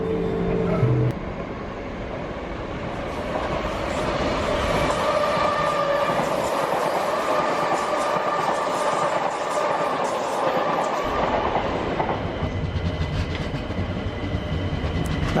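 A London Overground train runs along steadily, giving a continuous loud rumble and rolling wheel noise with light clatter over the joints, heard close from aboard or beside the track, without voices.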